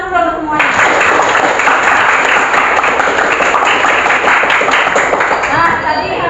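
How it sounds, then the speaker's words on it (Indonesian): Classroom applause: a group of students claps steadily together for about six seconds, a bright dense patter at close range, with a few voices heard briefly at the start and end. "Tepuk tangan dulu untuk semuanya."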